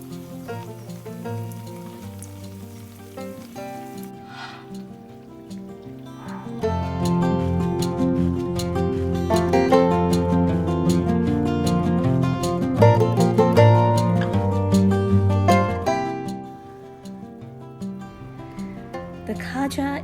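Khaja pastry pieces deep frying in oil over medium to low heat give a steady soft crackle and sizzle, sitting under louder background music throughout.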